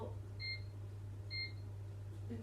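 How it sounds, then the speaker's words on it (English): A fan oven's timer gives two short electronic beeps about a second apart as it is set, clear over a steady low appliance hum. "we'll set the timer"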